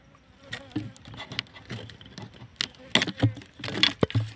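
Apis cerana honey bees buzz intermittently around the listener, near and fluctuating, mixed with scattered clicks and handling noises.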